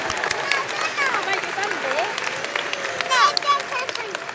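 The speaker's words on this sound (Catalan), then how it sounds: "Podeu aplaudir, podeu." An audience at the opening ceremony of the 2014 Setmana del Cava in Sant Sadurní d'Anoia claps in a short patter that swells slightly near the end, mixed with a speaker's voice.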